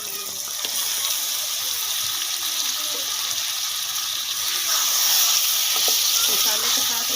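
Washed chicken pieces frying in a karahi with spices, a loud, dense sizzle that runs on without a break and swells a little louder near the end, heard up close.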